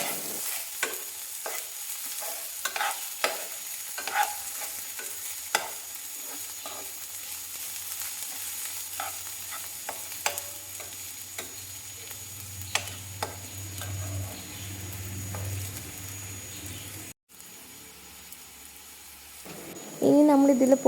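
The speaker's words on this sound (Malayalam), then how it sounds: "അപ്പോൾ അതിൻ്റെ ഒരു പച്ച മണം മാറുന്നവരെ നമ്മൾ നന്നായിട്ട് ഇളക്കിക്കൊണ്ടിരിക്കുക" Crushed ginger-garlic paste frying in a pan while a spoon stirs it, with repeated light taps and scrapes over a low, steady sizzle, a brief break, then a louder clatter at the end.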